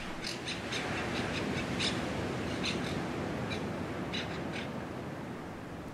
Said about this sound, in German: Vom Campingplatz aus hörten wir die Mönchssittiche.